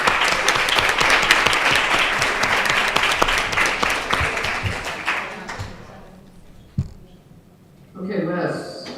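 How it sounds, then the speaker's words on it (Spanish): Loud, sustained audience applause with dense clapping that fades out, followed by a brief tap and then a short burst of voices. "Vamos a aplaudirla."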